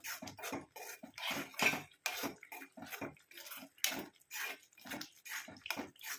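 Oil being stirred into an amla hair dye paste in a bowl, giving a run of close, wet clinking and scraping strokes that repeat steadily throughout with no talk.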